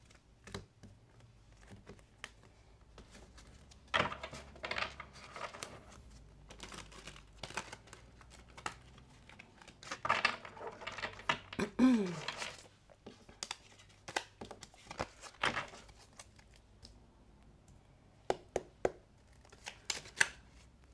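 Tarot cards shuffled by hand close up, quiet papery riffles and soft taps in scattered bursts with brief pauses between them.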